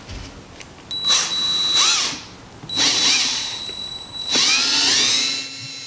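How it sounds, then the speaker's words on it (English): A power drill whines in three bursts, revving up and down as it drives a screw into a wooden stud, with short pauses between runs. "screw into a stud to hold this in place"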